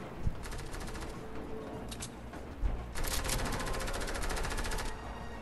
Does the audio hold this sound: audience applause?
no